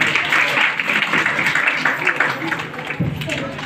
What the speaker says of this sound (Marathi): छोट्या चिमुकल्यांसाठी टाळ्या वाजवायच्या आहेत